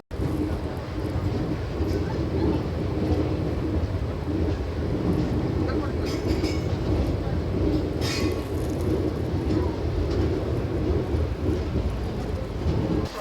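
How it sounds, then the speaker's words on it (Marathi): Koyna Express arriving at Satara railway station, a steady loud rumble of wheels and carriages running throughout with brief metallic clanks and hiss bursts, and a voice talking over it. "गाडी आता सातारा रेल्वे स्टेशनवरती अरायवल करत आहे"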